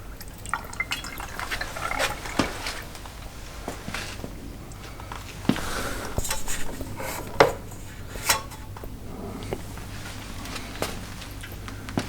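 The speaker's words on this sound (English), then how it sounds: "I'm gonna run a bit more vinegar through it, just to see if I can flush anything else out." Vinegar flushed through the fuel tank of a Honda T50 motorbike, with liquid sloshing, dripping and trickling alongside clinks and small knocks of metal throughout, moderately close with no talking.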